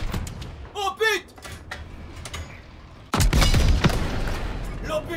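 A tank shell strikes armor in the World War II shooter Call of Duty: WWII, landing as a sudden loud broadband impact followed by a sustained rumbling blast, after quieter battle sounds with a voice chirping earlier.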